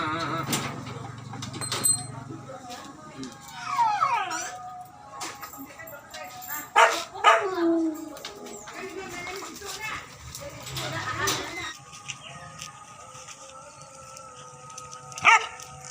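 A dog yips, whines and barks in scattered short bursts at close range, mixed with people talking and bits of household noise.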